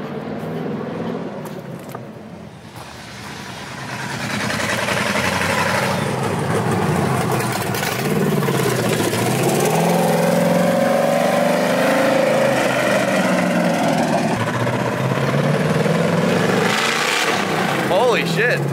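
LS3 V8-swapped Porsche 911 rumbling around the block, a loud, sustained engine drone that swells after a few seconds and holds steady, with people talking over it.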